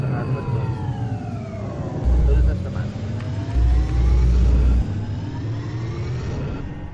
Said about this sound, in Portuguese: Senhorita Rui, vai acionar motores